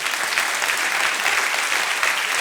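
A church congregation applauds during a sermon, a thick, continuous wash of clapping from many hands that stays loud and even throughout.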